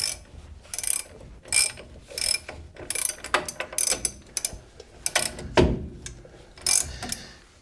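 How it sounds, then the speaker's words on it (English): Close ratchet wrench clicking in quick bursts of ratcheting strokes while tightening the lower ball joint nut on a Chevy truck's front suspension, with short pauses between strokes. "I'm going to start with the lower ball joint here. Get my wrench on actual tightening."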